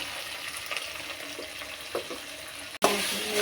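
Potatoes with cumin, coriander, ginger and green chilli fry in a pan and are stirred, giving a soft steady sizzle with faint scraping and a sudden clunk near the end.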